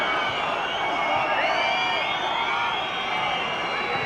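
Large football crowd at an FA Cup first-round match between Southport and Notts County in 2002, a steady loud roar of many voices with whistles and shouts in the last minute, continuous and dense throughout.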